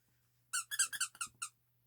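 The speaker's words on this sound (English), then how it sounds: "Squeaky carrot." A squeaky carrot dog toy is squeezed in a quick series of about six high-pitched squeaks in a quiet room.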